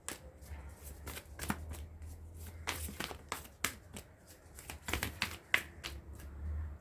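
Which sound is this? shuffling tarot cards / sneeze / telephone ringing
shuffling tarot cards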